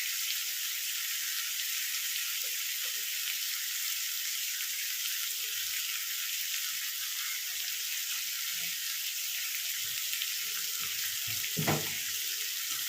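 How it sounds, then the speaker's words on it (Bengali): Chicken stew with black pepper simmers in a kadai, giving a soft, continuous bubbling hiss with a few faint pops. "একটু গোলমরিচ দিয়ে দেবো, দিয়ে এটাকে আমি এবারে কড়াতেই সেদ্ধ করবো।"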